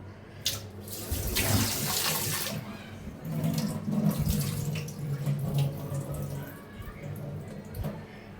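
Tap water runs steadily over freshly cut beef in a kitchen sink, close and loud, with splashing bursts as the meat is rinsed, the flow changing as it is moved under the stream.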